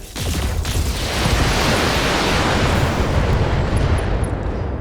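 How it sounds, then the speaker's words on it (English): Heavy mech unleashing a full weapons salvo in the BattleTech game, a dense roaring wall of blasts and rumbling explosions that sustains loudly for the whole stretch with no talk over it. "I'm gonna fire everything we've got."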